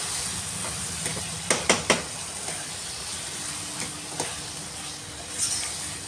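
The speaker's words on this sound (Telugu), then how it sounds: "వేసుకొని బాగా కలుపుకోవాలి." A spoon stirs masala into a dried fish curry in a pan over steady frying sizzle, with a few sharp scraping clacks of utensil against the pan early on and softer stirring sounds after, close and fairly loud.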